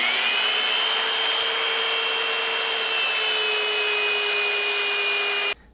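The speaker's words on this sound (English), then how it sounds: "Hold them real tight and just turn on the belt sander and make them kind of more identical here." A belt sander runs continuously on pieces of wood, giving a loud, steady whining hum that holds for several seconds before cutting off abruptly.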